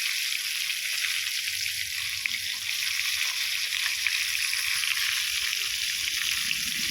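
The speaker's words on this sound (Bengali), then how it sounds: "এইভাবে উল্টে পাল্টে মাছটা ভাজলে আর চতুর্দিকটা খুব সুন্দরভাবে লাল লাল করে ভাজা যায়।" Desi golden fish from the Sundarbans fries in oil in a pan, a loud, continuous crackling sizzle with dense popping and bubbling that runs steadily throughout, close up, with no talking.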